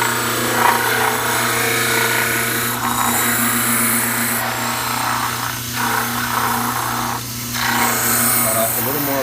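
A power tool trims excess material off a preliminary cast resting on a table, making a steady grinding, rasping whine with a low hum beneath and small shifts in pitch as the cut changes, close up and without talk.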